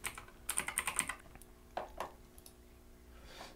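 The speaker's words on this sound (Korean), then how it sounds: "여기서 컨트롤 D키를 눌러서 복제를 합니다" A computer keyboard is pressed in a quick burst of clicky keystrokes while working in PowerPoint, followed by a few isolated key taps, close but quiet, with no talking.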